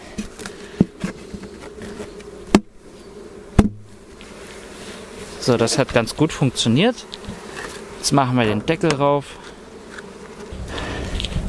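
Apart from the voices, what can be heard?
honeybees buzzing while entering a hive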